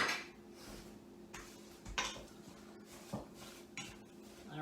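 A kale and apple salad is tossed and stirred in a bowl, giving intermittent clinks and scrapes of utensils against the dish, with a few sharper knocks standing out over a low steady background hum.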